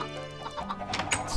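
Chickens in the video game Minecraft cluck in a short run of soft, quick notes against quiet game sounds, with a sharper cluck near the end.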